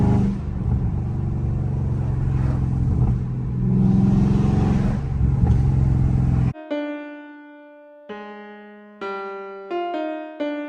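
Dodge Charger Scat Pack V8 in track mode, a loud close engine roar and revving for several seconds that cuts off abruptly, followed by sharp tonal music-like notes.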